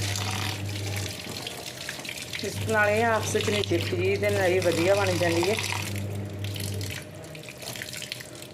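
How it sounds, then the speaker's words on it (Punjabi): Cold tap water pours steadily over Maggi noodles in a strainer while a person talks over it, with a low hum underneath. "ਇਹਦੇ ਉੱਤੇ ਠੰਡਾ ਪਾਣੀ ਪਾਤਾ ਜੀ"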